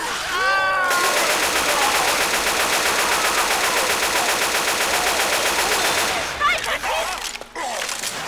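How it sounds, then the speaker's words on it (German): Sustained rapid automatic gunfire in Left 4 Dead 2 on the custom Underground Shake map, a loud, dense burst lasting several seconds before breaking off into scattered shots. "Ich schieß ja schon"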